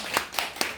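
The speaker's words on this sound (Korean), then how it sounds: "박수 한번 줘야 되는데." Three sharp hand claps land at a slow, even pace in a quiet lecture room during a class on NPL property auctions. The claps are soft, fairly close and sparse, with nothing else around them.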